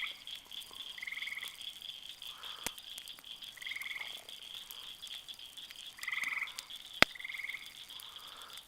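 Frogs croak at night outdoors, a few loud ones calling in repeated short trilling bursts every couple of seconds over a steady insect-like hum. A sharp crack sounds partway through.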